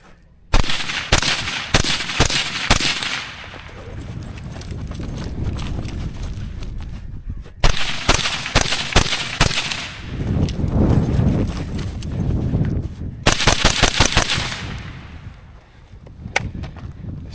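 Rifle shots fired through a rifle topped with an Arken Optics EP8 1-8 LPVO ring out loud and close in rapid strings, with pauses, clattering and movement between bursts, no talk.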